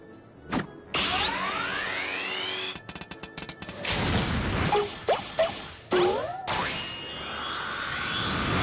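Hammer strikes ring out in Final Fantasy XIV amid a busy game soundscape of metallic clangs, whooshes and swept tonal effects, with several sharp impacts and a dense loud burst partway through.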